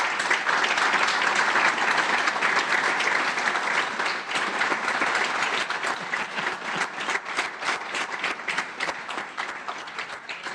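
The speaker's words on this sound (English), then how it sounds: "a round of applause for our next county executive" Sustained audience applause at an outdoor trail groundbreaking ceremony, a dense steady wash of many hands clapping that holds loud throughout and eases slightly toward the end.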